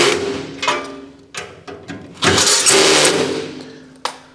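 A power driver sends screws into the legs of a Recteq Deck Boss 800 pellet grill during assembly, giving short whirring bursts with clicks and clunks between them, then a longer, louder run of driving up close.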